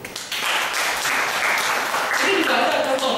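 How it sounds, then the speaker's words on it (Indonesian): An audience at a Buddhist Dhamma class breaks into applause, starting after a brief pause and continuing as steady, moderately loud clapping with a voice speaking over it near the end. "Tepuk tangan dulu."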